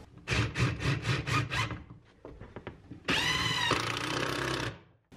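A power drill drives screws into a wall-mounted shelf: a pulsing burst of whirring, a pause with small knocks and taps, then a steady, louder drilling whine for about two seconds, all close up.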